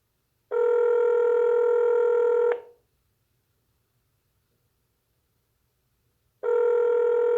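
An outgoing telephone call rings back in a steady electronic tone, two long rings about two seconds each separated by a few seconds of silence, close and clear, no talking.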